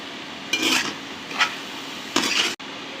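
Ash gourd fry being stirred in a pan, with three separate bursts of scraping and rustling over a steady low background and a short sharp knock near the end.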